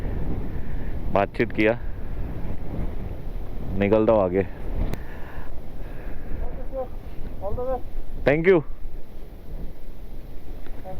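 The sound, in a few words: strong wind blowing on a mountain off-road ride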